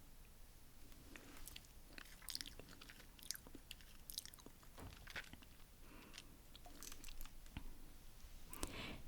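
Quiet close-up chewing of food being tasted, a steady run of soft crunchy bites and mouth clicks, with no talking.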